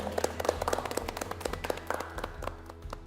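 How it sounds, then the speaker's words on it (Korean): A small audience claps for a professor at a Korean youth lecture, the claps sparse and uneven, steady over low background hum. "박수 한번 좀 드리도록 할게요"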